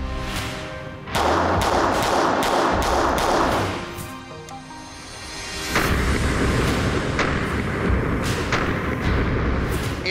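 Glock G45 full-size pistol fitted with an optic firing at a range, heard as several loud, close booming shots with ringing tails, one bursting in early and another partway through.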